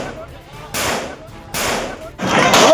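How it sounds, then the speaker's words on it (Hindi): Gunfire during a violent clash at a meeting, three loud broadband bursts about a second apart, each a short cluster of sharp cracks, close and harsh. "12 सेकंड के भीतर 7 राउंड फायरिंग की आवाज सुनाई दी।"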